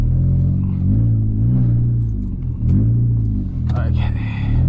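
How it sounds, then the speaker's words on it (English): A VW Golf Mk6 R running a stage 2 tune with a downpipe idles and drones with a deep, steady low exhaust hum, rising slightly in two swells, as people talk quietly nearby. "the car's running a stage 2 tune with a downpipe, but it's droning."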